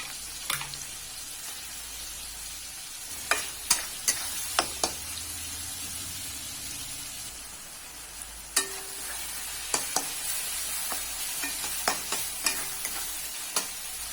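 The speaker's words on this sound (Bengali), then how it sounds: "কড়াতে আবারও তেল দিয়ে দিচ্ছি, তেলের মধ্যে পেঁয়াজ কুচি দিয়ে দিচ্ছি" Chopped onions and green chilies frying in oil in a wok for vegetarian chowmein, a soft steady sizzle broken by occasional sharp clinks and scrapes of a stirring spatula, close and without talk.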